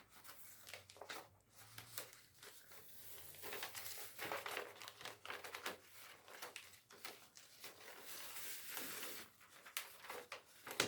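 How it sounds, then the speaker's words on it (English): Contact paper is peeled and handled, giving crinkling and tearing rustles in irregular bursts with brief pauses, close and fairly quiet. "Contact paper is pretty easy, as you see, to get it off."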